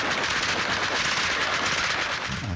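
Fired from a helicopter over a neighbourhood at night, a dense, continuous burst of automatic gunfire rattles loud and unbroken for a couple of seconds.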